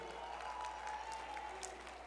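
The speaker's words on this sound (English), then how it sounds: "Put your hands together for the band that you heard just a few minutes ago" Audience applause for a middle school jazz band at an MLK program, a steady sustained clapping wash from a crowd with faint cheering mixed in.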